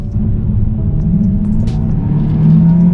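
A car engine idles with a deep, steady rumble close by, revving slightly higher near the end.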